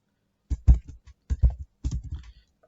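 Typing on a computer keyboard: three short bursts of close, crisp key clicks separated by brief pauses, with no talking.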